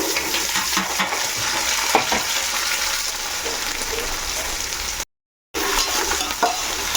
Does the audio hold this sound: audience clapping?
no